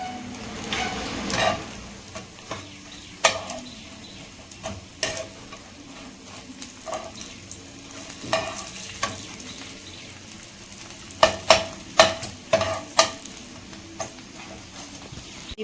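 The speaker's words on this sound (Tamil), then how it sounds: "இதெல்லாம் நெய்யில் நல்லா பொரிச்சு எடுத்தாச்சு" Pieces fry in ghee with a steady crackling sizzle, broken by repeated sharp clicks and taps of a utensil stirring and lifting them from the pan.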